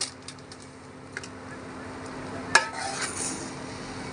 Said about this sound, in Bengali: গুঁড়ো দুধ দিয়ে ভালোভাবে মিশিয়ে নিব